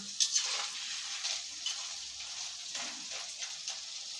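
Jackfruit chips fry in bubbling hot oil, a close steady hiss with fine crackles and pops running throughout.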